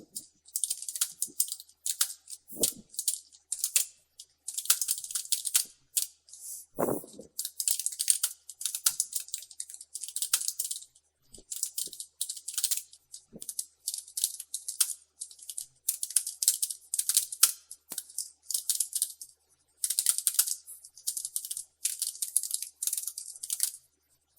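Steady bursts of quick typing on a computer keyboard while entering CV details, light, close clicking with short pauses between runs and no voices.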